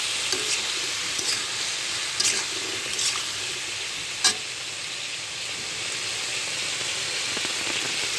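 Silver carp pieces with turmeric and salt stirred in a pan over medium heat, a steady close sizzle of frying broken by a few sharp scrapes and clinks of the spatula.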